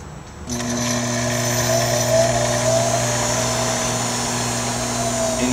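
An electric motor on an Axworthy Flying Ghost kicks on abruptly and immediately runs at high speed, holding a steady, bright whine with layered tones for several seconds, loud and close, with no talking.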